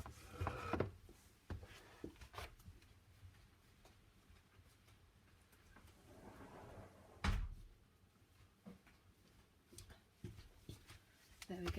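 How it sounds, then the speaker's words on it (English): A patio door is handled and pulled shut in a home, giving a few wooden knocks and a firm thud partway through, all faint and indoors, with a person's movements and speech nearby. "I'm just going to go and close my patio door before I get rain pouring in"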